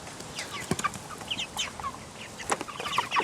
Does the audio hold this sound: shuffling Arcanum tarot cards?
no